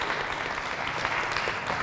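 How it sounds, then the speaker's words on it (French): An audience at an ecumenical Sunday gathering applauds the musicians with a dense, even wash of clapping, steady and moderately loud throughout the brief moment. "on applaudisse nos musiciens"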